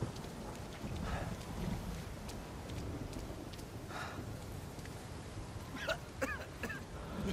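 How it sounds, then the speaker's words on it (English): A tropical storm in the video game Uncharted 4 pours steady, dense rain, with low rumbling thunder rolling underneath and a few sharper crackles near the end; no voices. "That is like a proper tropical storm."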